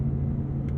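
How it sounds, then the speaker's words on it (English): An Audi R8 Performance RWD coupe's engine is caught in a brief, close, steady low rumble from inside the car in manual mode. No distinct rev blip stands out in the short moment. "Some properly quick downshifts."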